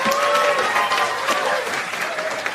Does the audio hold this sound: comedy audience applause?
yes